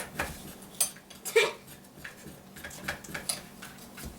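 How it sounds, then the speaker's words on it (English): A metal spoon scrapes fresh ginger root in short, uneven strokes, scratchy clicks and rasps repeating close by with small pauses between them. "you take the spoon and you scrape it until there's nothing left"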